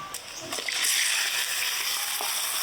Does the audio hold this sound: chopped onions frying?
yes